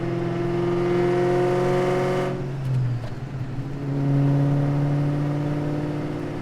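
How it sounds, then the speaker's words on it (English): A 700hp manual Mustang holds a steady engine drone, the clutch goes in for a quick throttle blip, and it settles into a lower drone after the downshift into third, loud and close. "I'm gonna push in the clutch, blip the throttle, and then I'm gonna shift it back into third and then let the clutch back out"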